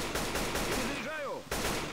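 Rapid bursts of gunfire in Left 4 Dead 2, dense repeated shots crowding together, with a voice briefly calling out amid the shooting.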